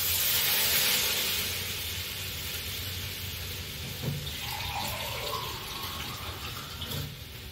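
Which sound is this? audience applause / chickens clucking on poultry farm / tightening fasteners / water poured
water poured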